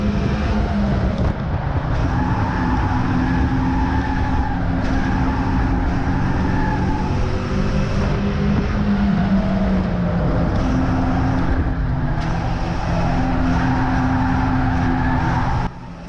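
Race cars circulate on a track, their engines droning loudly and continuously with shifting pitch as several cars run close together, no talk over them.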